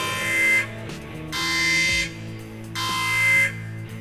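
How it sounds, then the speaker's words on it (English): A collision alarm sounds aboard a vessel, three loud, steady blaring tones of about three-quarters of a second each, evenly spaced, with a lower mechanical hum continuing in between. "No, Miss Matthews, that's the collision alarm."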